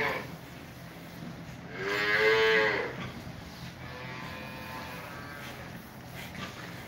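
Cattle moo on a farm: one loud, drawn-out bellow from a nearby animal, then a fainter, longer low moo that follows, set against steady outdoor background noise.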